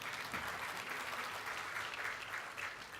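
Applause from a church congregation during a Sunday Easter service, a fairly quiet, steady patter of clapping that stays even throughout.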